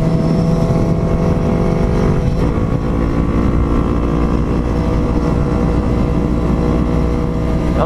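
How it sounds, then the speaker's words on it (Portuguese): A Yamaha XJ6 fitted with a full G-Escape exhaust system revs and accelerates, giving a loud, steady, close engine roar that stays unbroken throughout with no talking. "E hoje a gente tá acelerando do lado da XJ, essa máquina."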